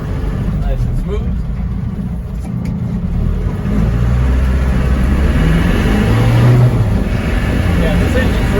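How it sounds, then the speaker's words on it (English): The 200Tdi diesel engine of a 1994 Land Rover Defender 90 rumbles steadily at close range, a low continuous drone that swells slightly partway through, with no talking over it. "Yeah, this engine's running real good. Lots of power."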